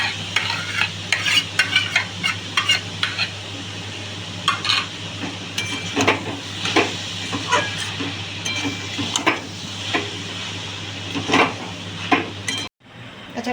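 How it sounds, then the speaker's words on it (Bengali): Vegetables being stirred and fried in a pan with grated paneer, giving a steady close sizzle broken by repeated scraping and clinking of a spoon against the pan, with no voices. "এদিকে দেখো সবজিটা আমার হালকা হালকা ভাজা হয়ে গেছে।"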